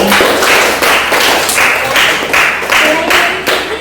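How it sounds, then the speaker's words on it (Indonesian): A classroom audience breaks into applause, loud rhythmic bursts of clapping repeating several times in close succession with no talk over it. "kita berikan aplaus dulu"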